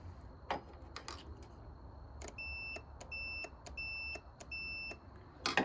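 A multimeter gives a series of short, evenly spaced high beeps while a relay from a Jeep with transmission trouble is tested for continuity, heard close against a low background hum, with no speech.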